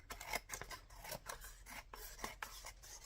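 Scissors trimming paper on an altered playing card craft piece, a quick series of close, crisp snips and rustles in steady rhythm, quiet and alone.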